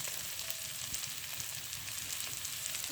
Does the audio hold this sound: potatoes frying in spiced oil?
yes